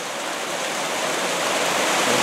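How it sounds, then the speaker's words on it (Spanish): River water from a stream runs into a full intake sand trap south of Ibagué, a steady, close rushing wash that never breaks, with no talk over it. "el agua viene de allá, de ese río, de esa quebrada. Entra, entra, entra acá."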